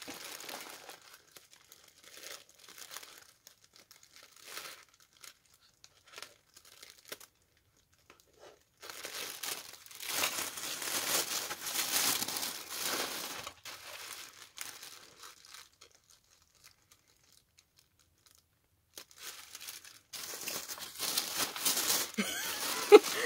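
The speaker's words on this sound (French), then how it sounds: "je prends le temps d'enlever tous les petits morceaux de scotch" Close, crinkly rustling and tearing of thin pink tissue paper and tape while unwrapping a birthday parcel, in intermittent bursts separated by quiet pauses, with no talking.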